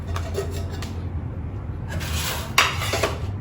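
Metal camping cookware clinks and rubs as a kettle is lifted out of a nesting pot set, with soft scraping followed by a brighter clatter near the end, close and moderately loud.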